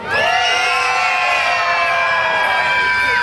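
A large crowd of children at an outdoor event on the Petaluma River Promenade screams loudly and continuously for a few seconds, a sustained high-pitched roar of many voices together.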